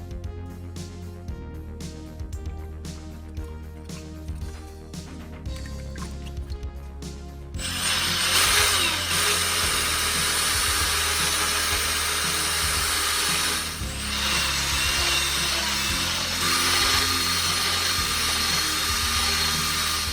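A Nintendo GameCube jewel is wet sanded by hand, a continuous loud abrasive rasp that starts partway in after a quieter musical stretch and carries on steadily to the end.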